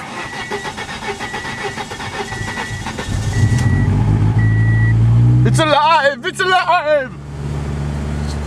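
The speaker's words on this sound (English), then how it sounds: "Attempt number two with battery power to start the car after the timing belt replacement" A 1997 Ford Escort 2.0 SOHC, just fitted with a new timing belt, cranks on battery power for a couple of seconds, then catches and settles into a loud, steady idle while excited voices cheer over the running engine.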